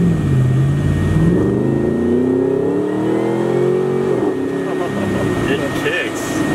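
Off-road car with an LT4 supercharged engine on a test drive, its engine revving and rising in pitch, loud and steady under people talking.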